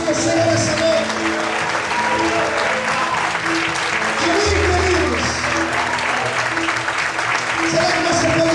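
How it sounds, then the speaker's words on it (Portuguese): Church congregation applauding during an evening worship service, steady sustained clapping that fills the room, with music tones and a raised voice carrying underneath. "Quantos podem aplaudir e glorificar o Senhor essa noite?"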